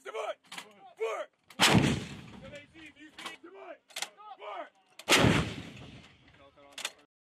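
Mounted machine guns and artillery on a U.S. Marine live-fire range, with two heavy booming blasts and sharper bursts ringing out between shouted commands and talk.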